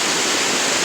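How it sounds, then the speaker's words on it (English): Double waterfall at East Waterfall, heard as a dense, steady roar of falling and spraying water. It is close, loud and continuous, with no voices over it. "There's a waterfall underneath the water, and then there's another spray of water going over."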